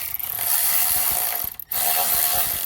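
A ratchet tightening engine mount bolts on a Chevelle LS swap, a rapid close, loud run of metallic clicks with one brief pause before the clicking resumes.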